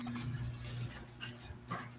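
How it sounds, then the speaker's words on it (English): Dogs whimpering indoors during a gaming session, soft high whines and yips coming in short bursts over a steady low electronic hum, fairly faint and close. "No, dogs are here."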